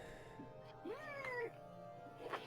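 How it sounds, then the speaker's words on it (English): A pet cat meows indoors, a faint rising and falling call with a second brief mew after it, quiet against steady room noise. "That's my cat."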